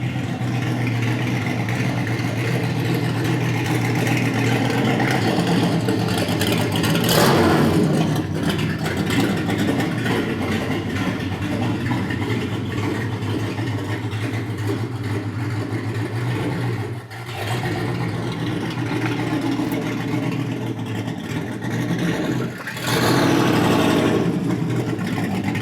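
A Plymouth Road Runner Superbird's engine idles loudly and close, then revs in several quick blips with a slight delayed response, settling back to a deep, throaty rumble between bursts.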